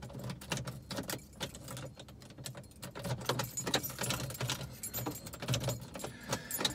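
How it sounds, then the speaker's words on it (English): A car key jangles and clicks in a sticky ignition of an Acura Integra, with irregular metallic rattles and taps repeating close by over several seconds. "Sometimes I gotta take the key out and put it back in like 5 times before it'll actually turn"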